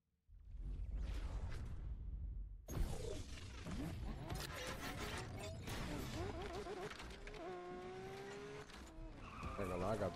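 A race car launches in Need for Speed Unbound: after a quiet start the engine roars up, tires skid and squeal, and revving gear changes and whooshes follow in a loud, busy stretch of game audio.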